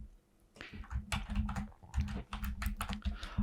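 Computer keyboard typing while modeling in Blender, including a Ctrl+R shortcut: a quiet, close run of clicky keystrokes in irregular bursts, with brief pauses between clusters.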